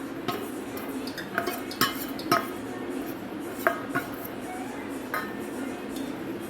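A spoon mixes potato patty (farali pattice) ingredients in a bowl, making soft intermittent clinks and scrapes at close range over a low background hum, with someone talking.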